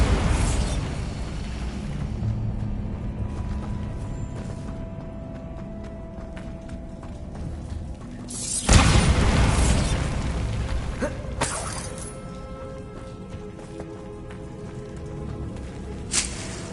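The Bombarda spell in Hogwarts Legacy lands as one sudden, loud explosive blast in the middle, with a smaller burst after it, over a steady rain-like hiss and faint mechanical clatter.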